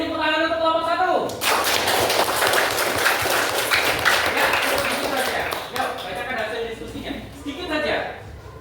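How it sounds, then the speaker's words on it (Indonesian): A classroom erupts in applause for a student group, with a steady, dense patter of many hands clapping for several seconds, framed by a teacher's voice before and after. "beri tepuk tangan untuk kelompok 1"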